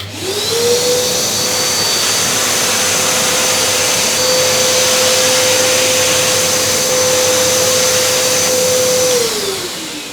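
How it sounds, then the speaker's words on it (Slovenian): A wet vacuum cleaner with a water filter runs its suction motor steadily and loudly for about nine seconds, with a rising whine as it spins up and a falling tail as it winds down. "Sedaj se pa vklopi sesalni motor in se posesa."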